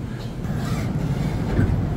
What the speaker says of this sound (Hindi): तो वैस ये हमारी मोनोरेल है चीबा मिनातो